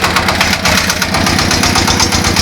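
A small walk-behind tractor diesel engine, converted into a mini tractor with hydraulics, runs loudly and close up, chugging in a steady, rapid rhythmic knock with a rattling vibration over it.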